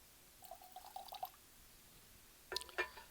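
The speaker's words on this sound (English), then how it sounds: "I'm going to add a splash of water to see how that opens up the whiskey" A small splash of water poured into a glass of whiskey, heard as two short, quiet bursts of trickling and clinking, one near the start and one near the end, with a hushed pause between them.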